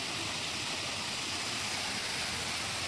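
Furlijharan waterfall in Bhawanipatna, swollen with monsoon water, roars as a steady, dense, unbroken rush of falling water, loud and close with no voices.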